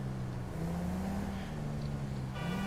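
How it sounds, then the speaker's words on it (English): A Suburban with a dual twin exhaust setup rumbles steadily nearby, a continuous low engine drone with a slight rise in pitch partway through and no talking over it. "Hey, Mr. Twin Exhaust Suburban."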